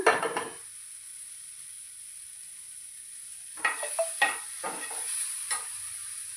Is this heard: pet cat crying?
no